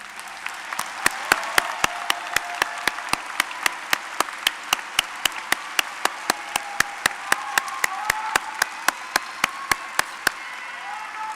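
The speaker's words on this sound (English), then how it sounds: "Please stand and receive a well-deserved round of applause" A college commencement crowd at Tri-C's fall 2021 ceremony applauds continuously, a dense, sustained roar of clapping with sharp regular clicks running through it, with no speech.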